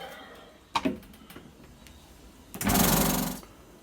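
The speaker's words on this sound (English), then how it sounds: "then vacuum pack it. So spread out in the chamber vac" A chamber vacuum sealer packs a bag of rhubarb, red wine vinegar and dark brown sugar, giving a few sharp clicks and knocks, then a loud close pump roar lasting about a second before cutting off.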